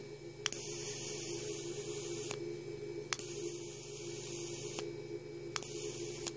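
A Tesla coil electric arc lighter buzzes loudly in three separate bursts of crackling, hissing electric hum, each lasting one to two seconds, with quiet gaps between them. It sounds close.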